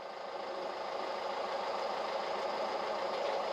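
A boat engine runs in reverse gear with a dense, steady mechanical whir and a rapid knocking vibration, holding an even level close by throughout.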